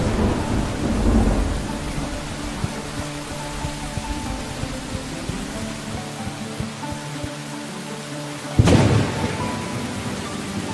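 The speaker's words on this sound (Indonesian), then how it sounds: "Teman-teman, hujan." Rain falls steadily in a cartoon scene with low rumbling thunder at the start, then a sudden loud thunderclap near the end that fades back into the continuous downpour.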